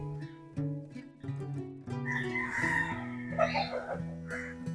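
German Shamo hens cluck and call on a desi poultry farm, with short repeated cackles and squawks at moderate volume, no talk over them.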